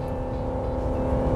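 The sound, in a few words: RAM 1500 3.6L Pentastar V6 engine revving at high RPM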